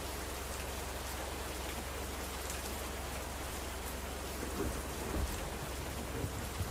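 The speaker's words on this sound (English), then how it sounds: "look how deep we are into the storm" Heavy rain and a thunderstorm in the Roblox game Twisted, a dense steady hiss of rainfall with low rumbling beneath, continuous and without speech.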